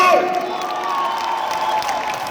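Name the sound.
audience applauding and cheering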